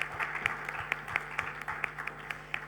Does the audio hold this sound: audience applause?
yes